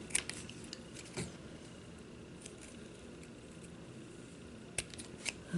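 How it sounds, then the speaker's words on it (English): Scissors are handled at a craft table while making rhinestone flower embellishments, giving a few faint, sharp clicks and snips spread through a quiet room with no talking. "Forgot the scissors here."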